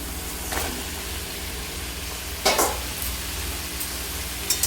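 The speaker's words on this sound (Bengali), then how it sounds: "আমি লাউ শাক দিয়ে ভালো করে নাড়াচাড়া করে নেব।" Chopped bottle gourd greens and stalks fry in a pan under a low, steady sizzle, with a few sharp stirring scrapes now and then.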